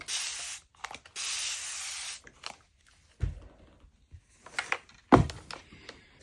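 Spray bottle spritzing water onto linen fabric: two hissing sprays close by, one short and one longer, then quiet handling clicks and knocks.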